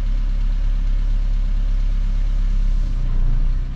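A Peugeot 309 GR engine runs steadily with its drive wheels raised on stands, a loud, continuous low idle-like drone with no talk.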